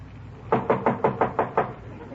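Seven quick, evenly spaced knocks on a door in an old-time radio comedy, sharp and fairly close, rapping in a steady rhythm over a quiet background.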